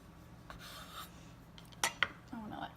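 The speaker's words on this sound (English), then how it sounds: "I'm just going to cut the top off right there." A knife slices the top off a pumpkin cake, with soft rasping strokes followed by a couple of sharp clicks against the board, quiet and close.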